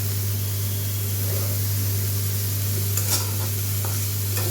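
Carrots frying in ghee for carrot halwa, a soft continuous sizzle and stirring hiss over a loud steady hum, with a brief scrape near the end and no talking.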